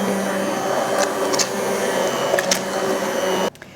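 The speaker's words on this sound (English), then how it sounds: "So, using my stick blender." A stick blender pureeing pumpkin soup whirs steadily with a rough, grinding hum, then cuts off abruptly just before the end.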